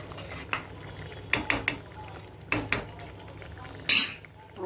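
A spoon stirs potato and bean curry with ghee in a metal pan, scraping and knocking against the sides in a quick series of sharp clinks over a low background hum.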